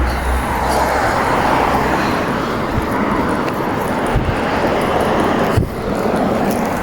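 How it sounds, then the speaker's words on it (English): Cars race past on a road at night, a continuous loud roar of engines and tyre noise with passing swells and no voices. "I've heard these cars been chasing each other for like a while."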